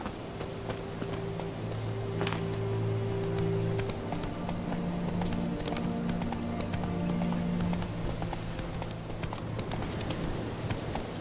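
Galloping horse hooves from The Witcher 3 pound in a fast, even clip-clop rhythm close up, layered over sustained background music with a faint whinny.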